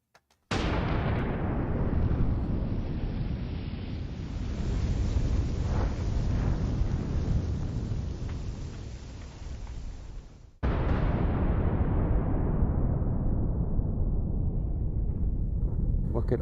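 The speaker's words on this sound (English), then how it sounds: "The explosion isn't perfectly instant across the whole material." Cardboard blasted apart by an explosion in a high-speed shot: a loud, sustained roaring burst fills the scene, cuts off abruptly, then a second broad rushing roar follows.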